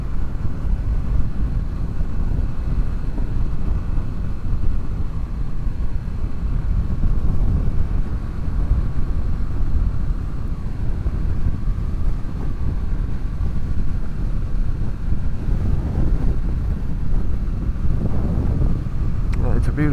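Wind gusts outdoors on a cold evening and buffets the microphone with a loud, continuous low roar. Faint sounds rise briefly near the end.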